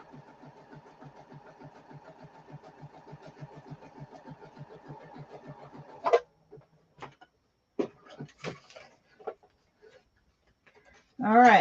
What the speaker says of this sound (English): Doesn't like going through the sewing machine so much.